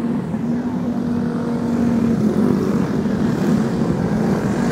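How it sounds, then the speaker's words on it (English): Winged intermediate sprint race cars rolling onto a speedway for a heat race, a continuous low engine drone that grows slightly louder, heard at a moderate distance with a steady rumble. "Heat race number two about to roll onto the Speedway."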